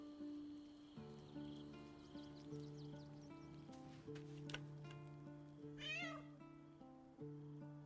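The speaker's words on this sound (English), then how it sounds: "It might just be the cat." Cat meowing in the video game Baldur's Gate 3: a few short meows ring out over steady game music, with a sharper rising cry near the end.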